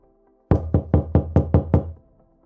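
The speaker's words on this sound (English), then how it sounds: "Now this verb, pounding, it sounds like this." Seven firm, evenly spaced knocks pound on a solid surface in quick succession, close and loud, with quiet before and after.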